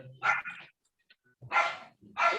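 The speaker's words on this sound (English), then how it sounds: "whose dog is that?" A dog barks close by in a few loud, separate bursts with short pauses between them, with no talk heard over the barking.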